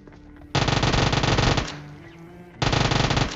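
Automatic gunfire in PUBG Mobile, loud and close, with a sustained burst of rapid shots, a short lull while the firing trails off, then a second burst.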